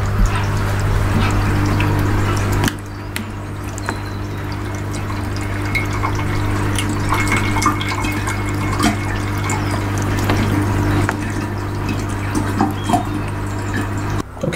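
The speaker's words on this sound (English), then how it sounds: "Okay, so that's our pump" A small hydroponic air pump keeps up a steady hum in a UK greenhouse NFT growing system while water bubbles and trickles continuously, with occasional soft clicks and drips over the constant drone.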